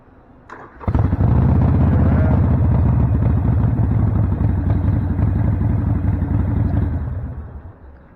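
A motorcycle engine cranks and catches, then idles with a steady loud throbbing rumble for several seconds before winding down.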